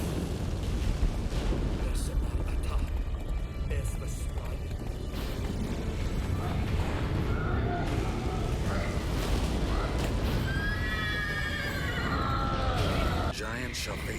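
A horse neighs in The Witcher 3 amid hoofbeats and booming battle rumble, with rising whinny calls growing clearer toward the end and voices talking throughout.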